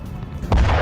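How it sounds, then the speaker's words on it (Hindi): A powerful airstrike explosion in Yemen, throwing up a huge fireball: a sudden deep boom about halfway through, following low background rumble, then a loud sustained roar that stays heavy and close to the end. "ये देखिए कितना बड़ा धमाका, आग का कितना बड़ा गोला बनता हुआ नजर आ रहा है।"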